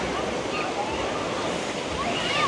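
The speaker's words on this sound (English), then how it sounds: "It looks like the ride does slosh water into the viewing area here." Water from a small waterfall on an amusement park water ride at Adventureland on Long Island, sloshing and rushing continuously, loud and steady, with people talking faintly underneath.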